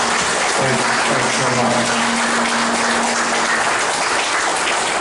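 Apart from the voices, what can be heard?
audience applause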